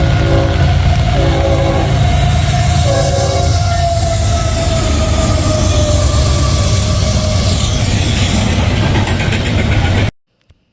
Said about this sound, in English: CSX I-165 with Kansas City Southern Gray Ghost number 4555 trailing second.